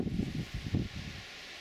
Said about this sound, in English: Windy, really windy.